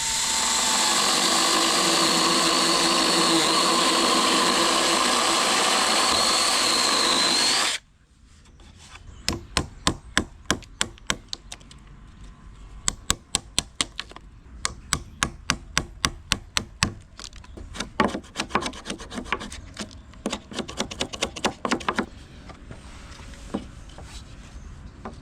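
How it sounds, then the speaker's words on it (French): A power tool strips bark from a wooden post for a firewood shelter and cuts it flush with the wedge, with a loud steady whine for several seconds, then many sharp knocks and chopping strikes in uneven bursts. "le but du jeu ça va être d'enlever l'écorce, de couper à ras la cale"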